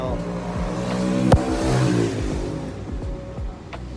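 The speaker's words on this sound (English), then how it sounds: "motorcycles are so loud" A loud motorcycle on a Costa Rica street, engine revving and passing close by with rising and falling pitch over about four seconds.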